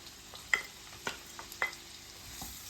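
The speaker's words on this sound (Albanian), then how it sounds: "Shkrim gjalpin, I hedhim qepen, edhe selinon." Onion and celery frying in melted butter, with a quiet, steady sizzle broken by several soft scraping stirs of a spoon in the pan, recorded close but faint.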